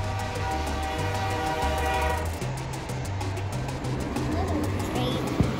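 A model train runs steadily with a continuous rolling rumble and repeated rhythmic pulses, close and fairly loud throughout, with a sharp click near the end.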